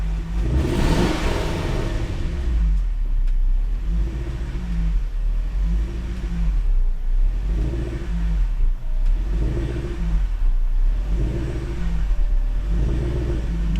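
A supercharged Range Rover engine with idling issues idles with a deep rumble, then revs up repeatedly in several rising bursts, each settling back to idle, loud and close.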